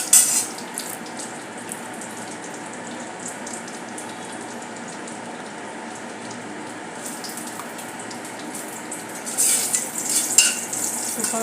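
Cumin seeds sizzle steadily in hot ghee, a close, even crackle with light stirring clinks from the pan, swelling a little louder near the end.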